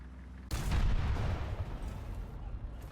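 Tank cannon shot in War Thunder, fired from a PT-76 light tank: a sudden loud blast that rolls into a long, heavy rumbling decay lasting a couple of seconds, close and alone.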